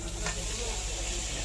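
Vegetables dropped straight into a hot dry wok with no oil, giving a close, steady hiss and sizzle with faint stirring scrapes throughout the brief moment.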